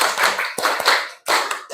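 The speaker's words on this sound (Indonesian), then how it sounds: "tepuk tangan untuk kita semua" Hands clapping in a classroom, arriving as several loud, close bursts of brisk applause separated by short pauses.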